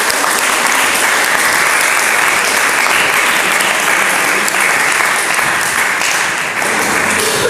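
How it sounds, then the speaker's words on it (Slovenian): Loud, sustained applause for the athlete Teja Koželj from an audience at a community event, a thick unbroken roar of many people clapping that holds evenly and eases slightly near the end. "mislim, da si zasluži en aplavz"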